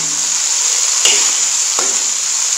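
Onions tipped into hot ghee for an aloo matar gajar mixed sabzi set off a loud, steady sizzle, with two brief bursts of stirring or added crackle partway through and no talking.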